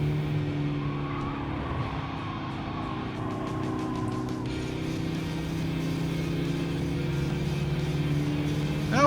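A Mazda Demio driven in Gran Turismo 7, a steady engine drone with tires squealing and skidding through corners, continuous and fairly loud with no talking.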